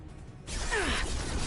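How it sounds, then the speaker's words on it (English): A flashbang grenade goes off in Mass Effect 2 Legendary Edition: a sudden loud burst after a short quiet lead-in, with a falling whistling ring that fades into a sustained muffled wash. "Watch out, flashbang. This should slow him down."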